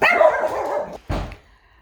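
A pet dog in a home, where a dryer is being repaired, gives a short throaty vocalization, a sustained low growl-like sound followed by a brief gruff bark-like burst, close up and alone.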